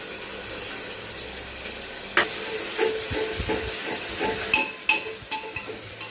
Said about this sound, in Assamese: আদা নহৰুৰ কেঁচা গন্ধটো যোৱালৈকে ভাজি থাকিব লাগিব এনেদৰে।